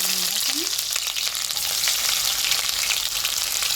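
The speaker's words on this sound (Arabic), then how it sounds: "هننزل اول حاجه في الوك ده شويه البصل بتوعنا." Onions frying in oil and ghee in a wok, a steady, dense sizzle that holds loud and even throughout with no pauses.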